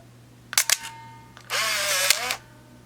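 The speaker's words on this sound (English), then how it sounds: "And now we're going to operate the shutter." Two quick mechanical shutter clicks from a Canon Sure Shot 35mm film camera, then a brief whirring motor advance winding the film, crisp and close in a quiet room.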